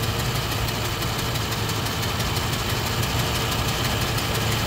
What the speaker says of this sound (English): The engine right now has a slight misfire.